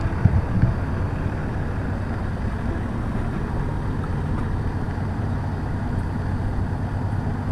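A Jeep idles with its muffler off after corrugated outback tracks at Windjana Gorge in the Kimberley, a steady low rumbling drone running evenly under light wind noise, with no talking.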